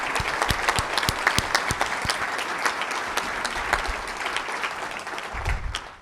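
Audience applause at the 2023 PRME Global Forum during a board transition session, with steady close clapping from a crowd that tapers off near the end.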